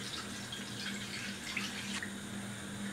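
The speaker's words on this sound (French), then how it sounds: "Et on va ajouter l'eau." Water runs and pours steadily into a pan of tomato sauce while cooking matembele sweet potato leaves, a continuous close hiss with small splashy flickers and no talking.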